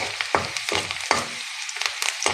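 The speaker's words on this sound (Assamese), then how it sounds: "পিঁয়াজখিনি অলপ ৰঙচুৱাকৈ ভাজি ল'ম।" Onions with crushed ginger and garlic frying in a pan for a zika curry, a steady close sizzle punctuated by repeated scraping stirs of a spatula.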